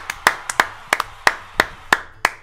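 Hands clap in a loose, uneven rhythm, about ten sharp claps close to the microphone over a quiet room, some landing in quick pairs.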